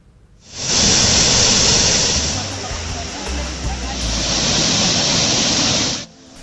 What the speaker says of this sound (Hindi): चट्टानों के बीचों बीच से कलकल बहती पानी की धारा